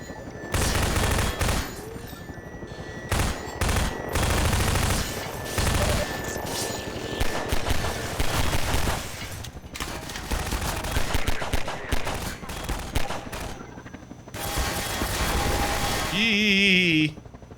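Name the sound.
gunfire in the video game Half-Life 2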